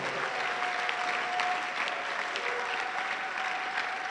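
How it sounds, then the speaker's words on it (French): Congregation applauding at a French-language prayer mass, steady dense clapping throughout with a faint sustained tone underneath, no talking. "Applaudis très bien les rois des rois."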